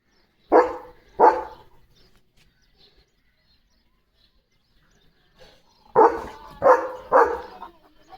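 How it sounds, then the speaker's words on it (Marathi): A dog barks at a fire of burning rubbish outdoors: two sharp, close barks, a quiet pause, then three more in quick succession. "कचरा जाळलाय त्यांनी जाळाला भुंकतोय लिओ"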